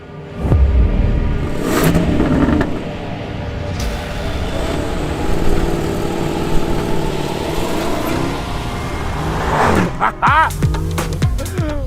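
Land Rover Defender 90 with a 5-litre supercharged V8 revs and rumbles up close, accelerating hard with a deep, sustained engine roar that rises and falls, ending in a brief sharper burst.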